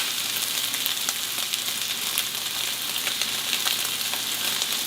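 A ribeye steak sears in oil in a hot pan, giving off a steady, dense sizzle with crackling pops that runs unbroken and fairly loud throughout, with no voices.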